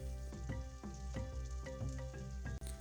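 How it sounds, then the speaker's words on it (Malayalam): Tomatoes and onions sautéing with salt in a pan for a South Indian vegetable kurma, giving a continuous close sizzle broken by regular scraping strokes as the mixture is stirred. "അതും കൂടെ ചേർത്ത് നന്നായിട്ട് ഇതൊന്ന് വഴറ്റിയെടുക്കാം."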